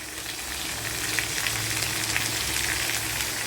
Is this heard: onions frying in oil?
yes